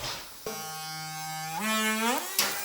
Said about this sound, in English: So we're going to use the Dremel.